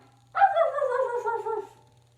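A single dog barks in a short, drawn-out burst lasting over a second, close and fairly loud against a quiet background.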